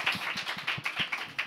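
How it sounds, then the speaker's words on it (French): Applause from a small group after a podcast discussion, a quick run of irregular claps at a steady rate, fairly quiet and close, with no talking over it. "Mais on peut vous applaudir quand même, c'était très bon."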